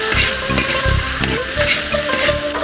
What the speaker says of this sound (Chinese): 把配菜下锅炝烤一下，来一点盐